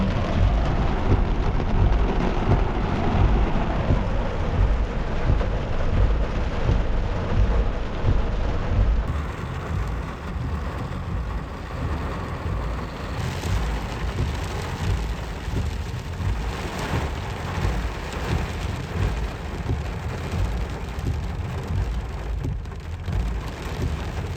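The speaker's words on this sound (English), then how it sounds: "let's enjoy some of this rain" A steady downpour of heavy rain drums on surfaces throughout, with low thunder rumbling underneath, loud and close with no voices.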